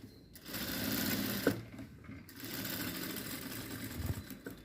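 Sewing machine running steadily while stitching a patchwork blouse with piping, a continuous near whirring with a brief pause and restart midway, no talk.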